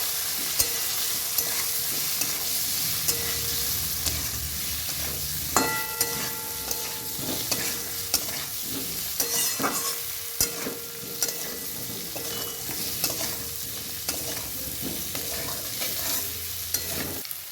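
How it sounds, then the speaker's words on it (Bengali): Potato and egg curry with turmeric powder stirred in a pan, a steady close scrape and clatter of the spoon over a constant frying sizzle, with a few sharper knocks of utensil against the pan. "হলুদ গুঁড়ো দিয়ে দেবো ভালো করে নেড়ে ছেড়ে মিশিয়ে দেবো"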